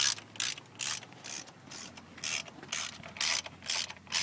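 A ratchet tightens the rocker cover bolts on a seventh-generation Honda Civic, giving quick, close bursts of clicking with short pauses between strokes.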